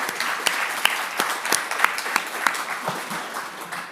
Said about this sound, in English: They really deserve a huge round of applause.